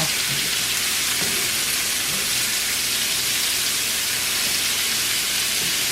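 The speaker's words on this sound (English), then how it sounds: "we're going to let this sit here and cook real slow. We've got some good butter in there now" Chanterelle mushrooms cook slowly over low heat in butter and bacon grease, making a continuous hissing sizzle that holds at an even level throughout.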